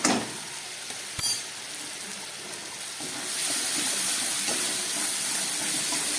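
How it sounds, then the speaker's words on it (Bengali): Onion and garlic fry in oil with ground cumin and dry chili powder for a Bengali tangra fish dish, giving a steady hiss that swells louder partway through, with a sharp clank early on and no talking. "আবার একটু ভেজে নিই ভালো করে।"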